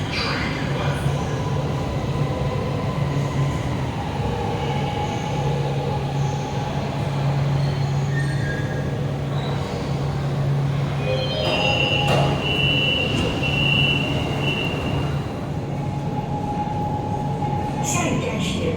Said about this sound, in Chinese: The train bound for Taoisha is arriving soon.